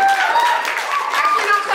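An audience claps loudly in a comedy club during a stand-up set, a brief dense burst of hands from a small crowd while a voice speaks over it.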